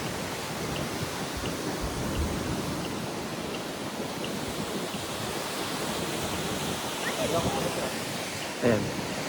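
Golden Waterfall on Taiwan's north coast gives a steady, full rushing roar of falling water that continues unbroken throughout, with a faint voice or two in the background.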